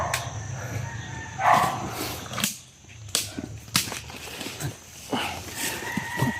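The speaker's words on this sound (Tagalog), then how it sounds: "Patas na papalakas yung tahol ng aso." A dog barks at a rural camp in several sharp, scattered barks, some louder and nearer than others, against a noisy outdoor background.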